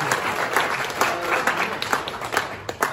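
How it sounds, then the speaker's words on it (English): Audience at a startup cohort showcase event breaks into dense, sustained applause, many hands clapping in a loud continuous patter close by, with no speech over it. "Can we get a round of applause for the BSV community?"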